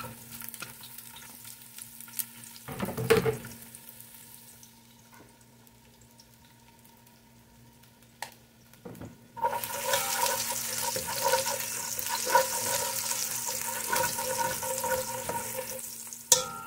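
Garlic hits hot oil in a pan while sautéing vegetables, breaking into a loud, steady sizzle that fills the second half after quieter clinks and stirring.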